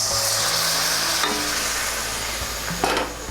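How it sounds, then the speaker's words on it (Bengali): Hot water poured into a sizzling crab curry masala and stirred, a loud steady hiss and bubble with scraping spoon strokes and a brief clatter near the end, no voices. "এর মধ্যে আমি গরম জল দিয়ে দেব"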